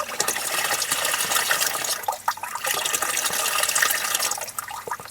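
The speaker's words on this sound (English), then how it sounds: "turn the water back on, see what happens" Water rushes steadily into a toilet cistern as it refills through a newly fitted ballcock float valve, a continuous close hiss and gurgle with brief dips in flow and no speech.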